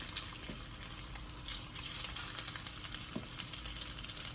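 Chicken pieces for bourbon chicken brown in a single layer in a hot pan, giving a steady, close, hissing sizzle. The frying is continuous, with faint stirring or shifting sounds and no talking.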